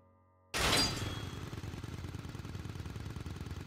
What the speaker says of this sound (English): And he's got a chainsaw.